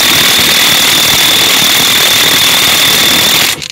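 Kobalt power tool hammering at a rusted crank bolt, a loud, steady buzzing rattle with a high whine running unbroken for several seconds before cutting off abruptly at the end.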